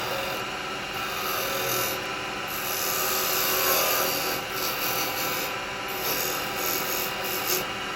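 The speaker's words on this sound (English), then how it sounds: "I'm going to come in here with a square chisel. Cut that right down to it there." A square carbide chisel scrapes continuously against a firewood bowl spinning on a wood lathe, giving a steady rasping, rubbing sound over the motor's hum.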